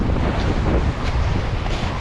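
Steady wind buffets the microphone with a constant broadband roar, mixed with faint wash of waves near the shore.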